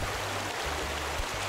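Water flows as a steady broadband rush in the climbing video game A Difficult Game About Climbing, with a constant wash and some low rumbling underneath and no voices.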